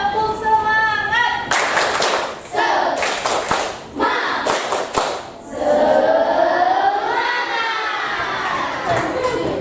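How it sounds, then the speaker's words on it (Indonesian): A primary school class of sixth graders claps together in a patterned rhythmic burst, loud and close, with children shouting and cheering between the clap groups and a teacher's voice at the start. "Iya, berikan tepuk tangan. 1, 2, 3, tepuk semangat."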